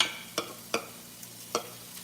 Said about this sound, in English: So all those vegetables that we had, all right, we're just gonna saute them.